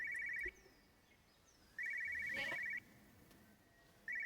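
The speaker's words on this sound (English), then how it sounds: "So where's the sound coming from? Ah yes, we just leave a phone out in the middle of nowhere." A telephone left out in the open countryside in the game Everybody's Gone to the Rapture rings in two long, steady electronic trills. The ringing is fairly faint over a quiet outdoor hush with birds.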